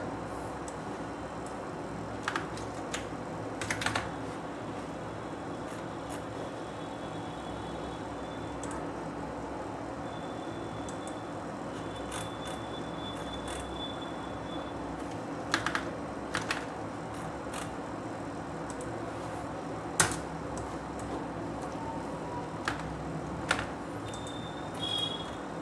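Someone types on a computer keyboard while writing in MS Word: faint, scattered key clicks over a low background hum, coming in small irregular bursts with pauses between them.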